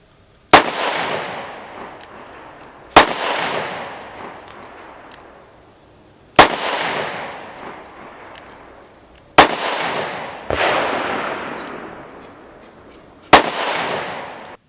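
Six sharp gunshots from a Smith & Wesson M&P 2.0 10mm pistol ring out at irregular intervals of two to three seconds, each a loud crack followed by a decaying outdoor echo, with no talking.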